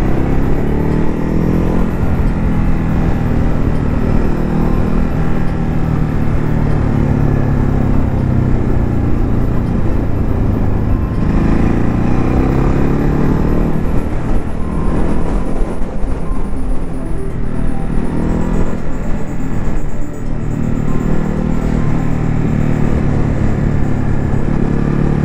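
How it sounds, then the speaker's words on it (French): A Ducati 950 Hypermotard is ridden through windy countryside, its engine droning loud and steady with rising and falling revs as it accelerates and eases off, wind rushing throughout. "moi je suis avec une super moto, une hyper motarde de chez Ducati"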